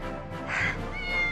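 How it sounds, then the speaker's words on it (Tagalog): A cat meows twice in fairly close succession, clear and fairly loud, over a faint background with no talking. "Pusa!"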